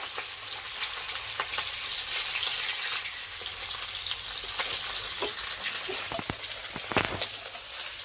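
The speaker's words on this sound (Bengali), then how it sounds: "আমার মাছও ভাজা হয়ে গেছে" Fish sizzling steadily in oil in a pan, a continuous crackling hiss with scattered sharper pops and spatters, fairly close and with no talking.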